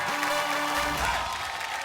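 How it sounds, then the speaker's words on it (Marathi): An audience applauds loudly and steadily as a Marathi TV game show breaks between rounds, a dense continuous wash of clapping with a brief tonal hum near the start. "एकदा जोरदार टाळ्या होऊन जाऊ दे."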